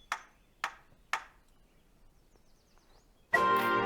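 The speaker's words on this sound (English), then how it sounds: "I don't know what was up with this guy making a clacking sound" Three sharp clacks from a character in the video game DotAGE, evenly spaced about half a second apart, with a short burst of louder game sound at the end.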